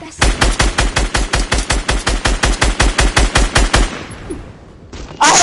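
Rapid sustained SMG fire in Fortnite, a loud close burst of evenly spaced shots lasting several seconds, then a brief lull before another loud blast.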